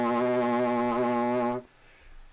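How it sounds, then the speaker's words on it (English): A player buzzes into the detached lead pipe of a brass instrument, a steady, reedy, nasal tone held for about a second and a half before stopping abruptly, close and fairly loud. "I want to do a little lead pipe buzzing."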